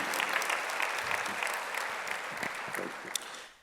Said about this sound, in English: I can see few heads nodding and claps going on